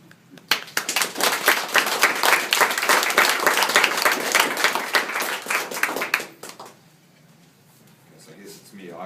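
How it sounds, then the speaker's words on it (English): Audience applause at a charity event: dense, loud clapping from a crowd for about six seconds, then fading out to quiet room sound with a little murmuring. "You can clap your hands"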